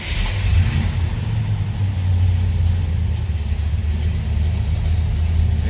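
A 1970 Chevrolet Chevelle SS 396 big-block V8 rumbles loudly and steadily close by, a deep throaty idle that continues without pause.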